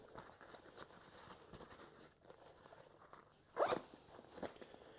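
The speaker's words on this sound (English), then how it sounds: "Again, the double YKK zippers, super beefy, nice paracord pulls, very smooth operation." A double YKK zipper with paracord pulls runs along a pocket of a Maxpedition Keystone Versipack, heard up close as soft rasping pulls with one sharp, louder zip near the end amid quiet handling rustle.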